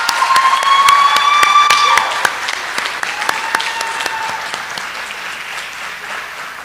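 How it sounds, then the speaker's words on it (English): An audience at a school-district ceremony bursts into a dense round of applause that swells for about two seconds, then thins and tapers while clapping continues; a few thin ringing tones sit briefly over the start. "May we please give them another round of applause."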